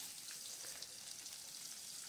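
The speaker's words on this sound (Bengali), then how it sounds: "আলুটাও আমি একটু লাল লাল করে ভেজে নেব।" Potatoes frying in mustard oil in a wok, a steady quiet hiss of sizzling oil with fine crackle, continuous and even throughout, no voices.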